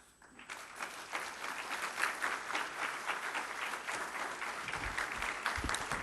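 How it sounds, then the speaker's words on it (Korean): A church congregation at a Sunday worship service in Milan gives a pastor a warm round of applause. The clapping swells quickly from quiet and holds steady and full to the end. "우리 큰 박수로 목사님 환영하겠습니다."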